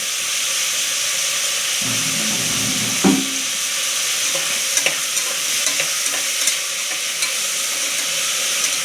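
Onions and tomatoes frying with salt for chicken fry, a steady close sizzle with scraping stir strokes partway through, heard alone without talk.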